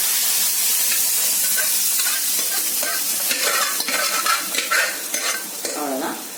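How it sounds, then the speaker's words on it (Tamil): Chow chow kootu tipped into a sizzling tempering and stirred, a steady close frying hiss with scraping spoon strokes and bubbling crackles building over about six seconds, no voices. "இப்ப நம்ம வந்து ரெடி பண்ணி வச்ச இந்த சௌசௌ கூட்டை இதில் ஆட் பண்ணிடலாம்."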